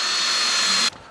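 A power drill with a 1/4 inch bit whines loudly and steadily while punching holes in a Jack Skellington costume build, then cuts off abruptly, leaving a quiet tail.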